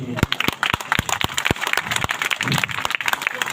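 Festival audience clapping in a sparse, uneven burst of sharp claps at a Prakash Diwas celebration, with a voice speaking over the applause.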